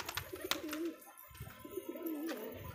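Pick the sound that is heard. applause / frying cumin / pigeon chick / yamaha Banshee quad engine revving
pigeon chick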